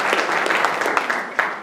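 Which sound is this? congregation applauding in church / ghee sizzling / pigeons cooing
congregation applauding in church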